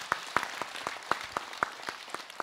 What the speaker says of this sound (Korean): 박수 나주세요